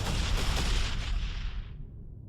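Missile turrets fire at Banshees during a StarCraft 2 Terran battle, a dense roar of rapid blasts and booms that holds steady and then fades as the barrage trails off.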